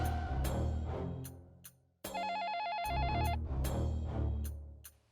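A telephone ringing for a call to an office, with bright trilling rings broken by pauses and a distinct warbling electronic ring tone in the middle, with some background sound beneath.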